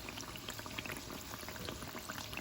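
A samosa shallow-frying in oil over low heat, with a dense, steady crackle of small bubbles sizzling close up, continuous throughout and no talking.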